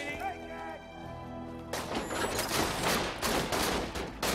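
Turret gunfire in the video game Borderlands 2 breaks in as a rapid, dense burst of shots after a quieter tonal passage, loud and continuous through the second half.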